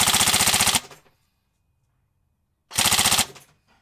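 Two short full-auto bursts from a Tokyo Marui Mk18 airsoft rifle with an NGRS Titan upgrade on a 7.4 V LiPo battery, rapid buzzing rattles close up separated by silence.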